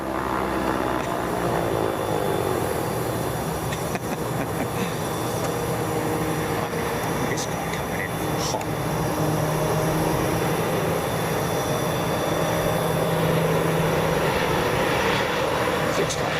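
Aircraft engine droning steadily at Boeing Field, a continuous loud rumble that holds through the whole stretch with faint voices in the background.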